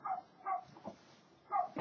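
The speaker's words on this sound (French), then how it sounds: "il y a un chien qui aboie et donc ça c'est un peu dommage" A dog barks outside in a few separate bursts, muffled and moderately distant, with short gaps between barks and a louder final bark at the end.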